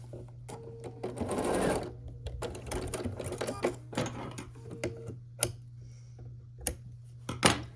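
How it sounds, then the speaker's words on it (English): A sewing machine stitches quilt block units together in short, rapid whirring bursts separated by pauses, with light clicks and fabric handling between runs and no speech. "Now we're going to sew one onto the other side."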